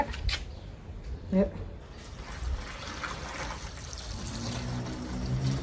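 Water is poured onto used coffee grounds and trickles over them to make a natural garden fertilizer. The pour is a soft, uneven splashing that runs under a person talking nearby.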